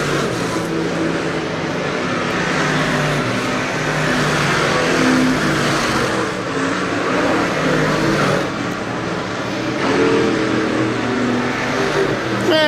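Dirt Car Sportsmen race cars lapping Weedsport Speedway during a qualifying session, a steady, loud, unbroken engine roar that swells and dips slightly as cars pass.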